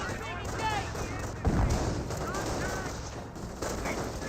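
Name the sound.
gunfire in Company of Heroes video game battle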